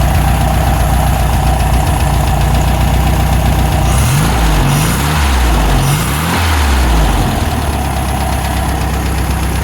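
A Volkswagen Beetle engine idles steadily and loudly up close, a continuous low rumble with a faint knocking texture, plus a brief wavering swell partway through.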